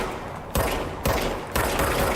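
The service weapon in the game Control fires in three sharp bursts about half a second apart, each a loud crack trailing off into a ringing decay, with no voices present.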